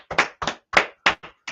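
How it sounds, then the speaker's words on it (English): A few sharp, uneven hand claps in quick succession, close and fairly loud, with short gaps between them. "We'll clap up there. Let's clap it up."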